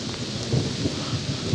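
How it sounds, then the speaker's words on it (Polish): A thunderstorm in progress around a derelict car service building: steady, dense rain hiss with low rumbling thunder pulses underneath, loud and close, with no voices. "A ja znajduję się w tym momencie w centrum burzy."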